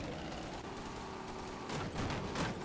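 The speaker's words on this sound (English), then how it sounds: "Stop shooting me." Rapid gunfire in the VR shooter Bonelab, a dense continuous stream of shots with heavier bursts toward the end, close and loud.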